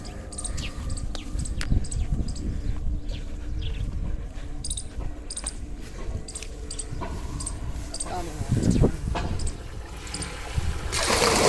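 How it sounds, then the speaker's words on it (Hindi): Cooking pots being washed outdoors in a village with tubewell water, irregular splashing, scrubbing and clanks of metal over a steady background of water and insects, with occasional speech. "ये बर्तन अभी धो लेते हैं"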